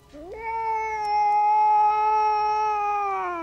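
A cat caterwauls in a long, rising, drawn-out yowl that holds a strained tone for several seconds before easing off slightly, loud and close with nothing else over it.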